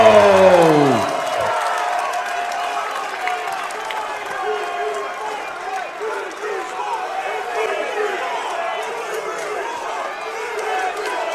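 Boxing crowd cheering and applauding as Yonkers fighter Jimmy Drago is introduced, loud sustained roar with whoops and clapping through the whole stretch, a voice calling out at the start.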